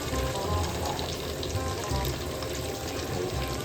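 Steady, crackling sizzle of chicken frying in hot oil in a pan, a close, continuous hiss with small pops and no talking.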